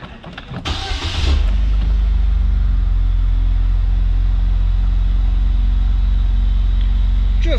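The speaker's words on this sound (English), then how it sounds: "Let's go ahead and fire this thing up here." A 2007 Pontiac Solstice GXP with a 2.4-litre four-cylinder Ecotec turbo engine cranks briefly, then catches into a loud, steady, close idle with a deep low rumble that holds to the end.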